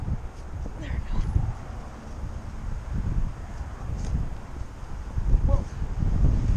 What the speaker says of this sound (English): Probably more wind, like you can hear in the audio